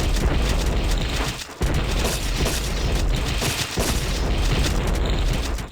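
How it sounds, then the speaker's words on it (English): Cannon fire in the video game Epic War 2, a steady, dense barrage of deep booms and bursts that runs loud and continuous, with one brief dip partway through. "they got full ass cannons, bro"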